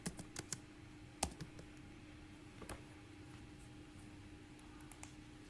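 Keyboard typing in a quiet room, a few soft irregular key taps and clicks spread over several seconds, faint and close.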